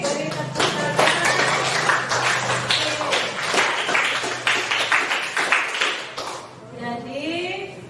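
Children in a school classroom clap their hands together for several seconds during a lesson on gender roles, the claps loud and close amid voices, before the clapping trails off and a voice continues near the end.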